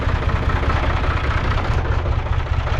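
A heavy engine idles steadily, a low rumbling drone that holds an even level throughout with no voices over it.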